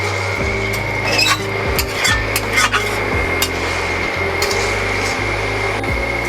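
Chicken curry being stirred and sautéed in a pan with released oil, a steady frying sizzle under repeated scraping and knocking of a spoon against the pan, close and continuous with no talk.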